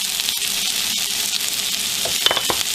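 Brussels sprouts with bacon frying in a pan, giving a steady close sizzle and crackle throughout, with a few clicks and scrapes toward the end.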